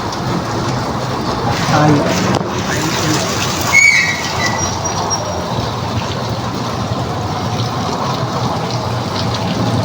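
Steady heavy rain pouring down around a tricycle in a Philippine setting, a continuous dense hiss that fills the scene, with a brief voice heard over it.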